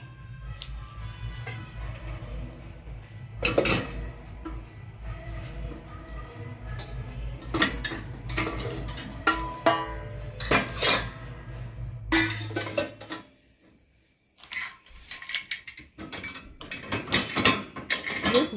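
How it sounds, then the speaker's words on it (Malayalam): Pots, a pressure cooker lid and Tupperware containers being set into the racks of a Bosch dishwasher, giving intermittent clattering knocks and ratcheting clicks over a low background hum, with no talking. "കുക്കറിൻ്റെ അടപ്പ് ഇങ്ങനെ വയ്ക്കാം."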